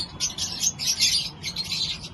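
Birds at a busy pigeon market in Malda, with repeated close chirps and tweets in quick bursts over a low background murmur.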